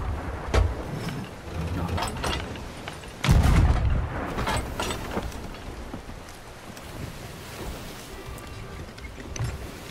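Several deep booming ship cannon shots fire in Sea of Thieves, one especially heavy blast, over constant wind and rough sea noise.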